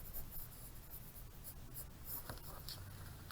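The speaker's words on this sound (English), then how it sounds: "I'll draw another line to the circle." A pencil draws a line on paper for a Loomis-method head, producing a soft, continuous scratchy rasp close up and quiet, with a few slight strokes and no voices.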